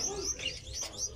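Gouldian finches and their chicks chirp in a breeding cage, a quick run of thin, high tweets close by over quiet background.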